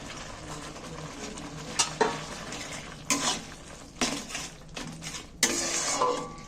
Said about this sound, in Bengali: আর এইবার আমি পালং শাকটা দিয়ে দিচ্ছি এর মধ্যে